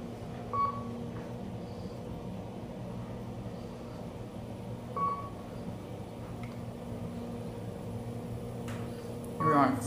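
Chimes from a Kone traction elevator in a Cambria Suites hotel in Roanoke, Virginia: a few short tonal beeps spaced several seconds apart over a steady low hum of cab and machinery.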